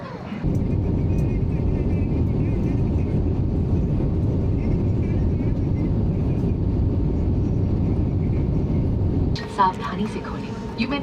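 Passenger airplane on a Bangalore to Coimbatore flight powering up for takeoff, a loud, steady engine roar heard from inside the cabin that holds for about nine seconds before dropping, followed by brief clatter near the end.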